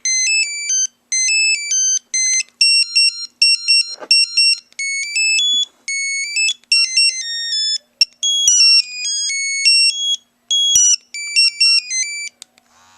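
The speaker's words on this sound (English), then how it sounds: "This one got a little fancy with some of the polymorphic ring or melodies." A pager plays a fancy polymorphic ring melody: quick, bright electronic notes hopping up and down in short repeated phrases with small pauses, loud and alone for the whole stretch.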